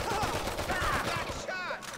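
Rapid, dense gunfire from GTA 5, a sustained barrage of shots packed tightly together and loud throughout, with a brief shout partly masked by the shooting.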